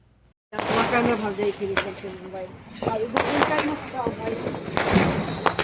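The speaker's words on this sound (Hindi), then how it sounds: "यहाँ पर आप देख सकते हैं चारों तरफ पटाखों की बौछार शुरू है।" Diwali firecrackers and fireworks burst in rapid, crackling volleys with sharp pops, near and far, while people talk underneath.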